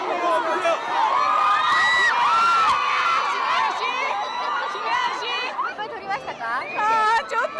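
Fans, mostly young Japanese women waiting outside in the cold at a 2004 film festival, scream and cheer as Korean stars arrive. A loud, dense crowd of high-pitched shrieks and whoops is mixed with chatter.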